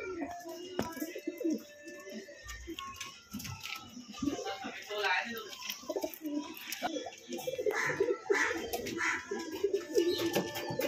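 Pigeons coo repeatedly close by in a small pigeon house, soft throaty calls overlapping with rustling and occasional chirps, with a person talking intermittently.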